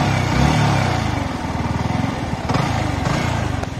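A Yamaha R15 V3 BS6 motorcycle engine runs close by with a fast, lumpy putter, holding a rough idle with small revs throughout.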